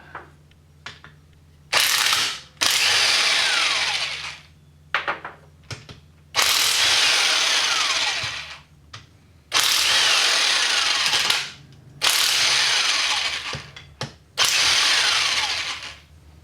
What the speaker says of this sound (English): It's a 7-amp, 1/2-inch electric impact.